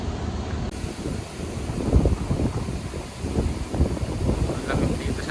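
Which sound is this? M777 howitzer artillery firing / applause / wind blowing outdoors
wind blowing outdoors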